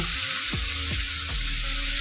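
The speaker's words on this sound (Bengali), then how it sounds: "এবার আমি শাপলাগুলোকে একটু ভেজে নেব" Steady, loud sizzling of water lily stems frying in hot oil, with a low rhythmic scraping or clanking every half second or so.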